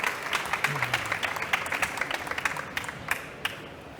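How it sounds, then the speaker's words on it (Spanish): Audience applause welcoming speakers onto a panel at a data-focused conference, a full room clapping loudly at first, then thinning into scattered individual claps as it winds down, with a brief voice partway through. "Damos un aplauso."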